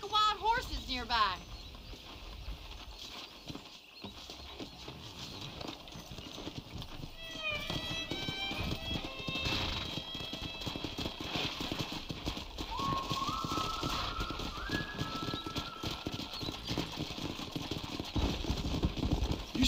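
In the video game Red Dead Redemption, horse hooves clip-clop and gallop across the scene, with an occasional whinny, under steady outdoor ambience and bits of talk.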